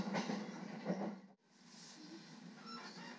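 An Airport Narita train bound for Narita Airport runs on its rails, a steady rumbling roll with rhythmic wheel clatter, a brief dropout, then a smoother hum carrying faint squeals.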